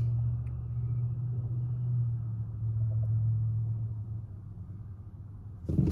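A 2018 Smart Fortwo electric coupe is driven, producing a low, steady road rumble and tire hum that swells and fades slightly before a sharp thump near the end; no voices are heard.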